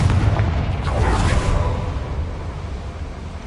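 A Confringo blasting spell explodes in a video game. A loud boom with a crackling burst in the first second and a half, then a rumbling decay that fades out, with no talk.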